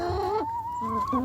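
A chicken on a backyard flock clucks during freezing blizzard weather, a short, close burst of rising and falling vocal calls with no talking.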